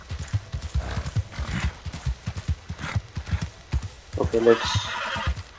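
A horse whinnies amid clip-clopping hooves in the Red Dead Redemption 2 video game, with someone talking over the hoofbeats and a loud neigh near the end.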